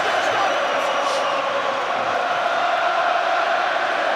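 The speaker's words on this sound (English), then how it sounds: "the crowd getting behind him" Steady roar of a boxing arena crowd cheering for Anthony Joshua during his bout with Joseph Parker, a dense continuous wash of voices with a few louder shouts rising above it.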